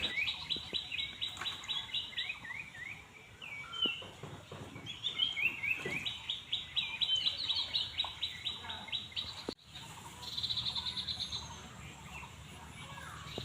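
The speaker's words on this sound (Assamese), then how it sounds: "চৰাইবিলাকে ইমান ধুনীয়াকৈ মাতিছে, সেয়ে ভাবিলোঁ আপোনালোককো অকণমান শুনাই দিওঁ।" Several birds chirp and trill in quick repeated bursts, bright and fairly close, against quiet outdoor background noise, with a brief pause near the end.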